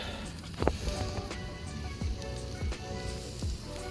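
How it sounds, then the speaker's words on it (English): Soft, steady sizzling of ribeye steak searing on a very hot grill, with scattered small pops and crackles, close but fairly quiet. "All right, you saw the sizzle."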